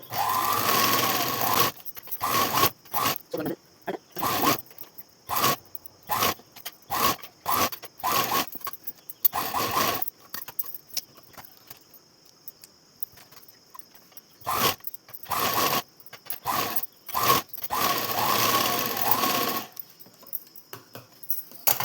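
A sewing machine stitches over a blouse sleeve joint in quick, close bursts with short gaps between them and a quieter stretch in the middle.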